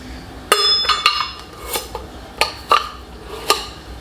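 Two cups of rice go into a pan with a tablespoon of olive oil, giving a run of sharp metallic clinks and rattles, several close knocks spread across a few seconds with no talking.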